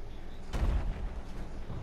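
Gunfire aimed at a tank in the video game Battlefield 4: one loud low boom and burst near the start, then a dense rumbling wash of battle noise continuing underneath.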